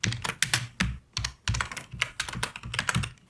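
Close, brisk keystrokes on a computer keyboard while code is typed, a steady run of sharp clicks with short pauses between bursts and no talking.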